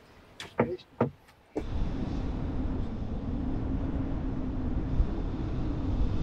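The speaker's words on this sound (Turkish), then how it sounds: "rüzgar sesini duyuyor musunuz?" Steady low seaside wind rumble buffeting the microphone on a beach after a few short knocks, continuing loud and unbroken to the end.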